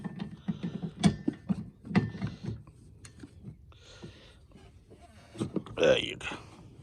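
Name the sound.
ratchet breaking loose 17 mm nuts on Honda CR-V wiper arms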